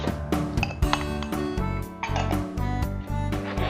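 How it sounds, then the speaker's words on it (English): Carrots, tomato and peppers are stirred in a pot, giving a run of bright metallic clinks and knocks from the utensil against the pot, irregular and close, with ringing tones between strikes. "I'm going to give it a stir to mix them together."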